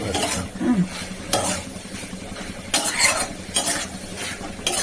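Water splashes into a hot pan with a burst of hissing, then a spoon scrapes and stirs through a vegetarian dish in repeated short strokes over a low sizzle, close and without speech.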